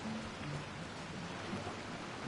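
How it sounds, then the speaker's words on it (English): Steady rainfall in a video game, a dense even hiss with soft pattering that stays constant and fairly quiet throughout, with no voices. "It's raining."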